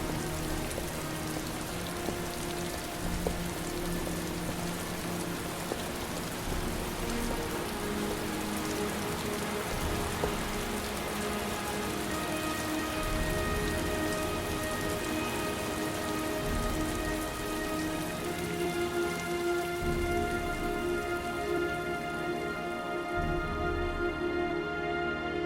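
Steady rain falls throughout a scene in the video game Heavy Rain, a constant hiss of drops with low rumbling under a tonal music bed that swells near the end, no voices.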